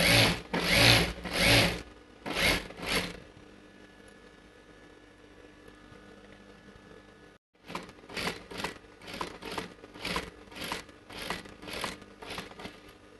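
Bursts of a sewing machine stitching a stone patch onto a blouse sleeve: a few fast runs, a quiet pause with faint background noise, then a longer stretch of rhythmic stop-start stitching close by.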